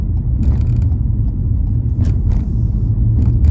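Steady, loud road rumble of a car cruising down an empty highway, a constant low drone with occasional faint ticks and no talking over it.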